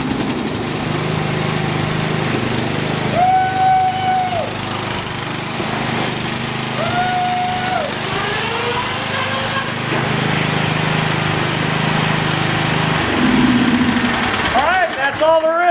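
White Outdoor LT15 riding mower from MTD, with new drive belts and no idler pulleys, runs steadily close by as a continuous engine drone, with brief whining tones and a louder rev near the end.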